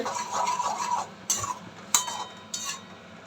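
A utensil scrapes and stirs rohu fish kalia in a pan, several distinct metallic clinks and scrapes over a low background, close and moderately quiet, with no talking.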